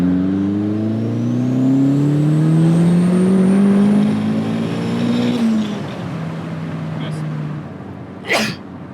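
Turbocharged Mazda Miata NB pulls hard in second gear, engine note climbing steadily then easing off with a rising whistle above it, loud and close, ending with a brief sharp burst; voices talk around it.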